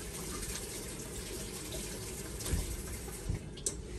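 A kitchen tap runs steadily as hands are washed after shaping a Filipino meatloaf, giving an even, close hiss of flowing water with a few small splashes near the end.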